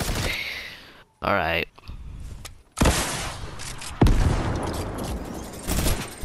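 In the Siphon 2.0 tank battle game, a minigun fires in harsh, rapid bursts of crackling gunfire that come and go, loud and close, while a player talks between and over the shots.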